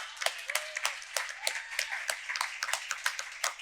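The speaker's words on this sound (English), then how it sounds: "A round of applause" Applause from an audience at a summit panel introduction, with irregular hand claps of moderate loudness spread through the moment rather than a dense ovation.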